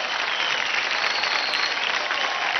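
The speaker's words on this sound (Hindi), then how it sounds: "जोरदार तालियां हो जाए स्वराली के लिए" Studio audience at a televised dance competition applauds a contestant's performance, a dense, steady wash of clapping that stays loud throughout with no talking over it.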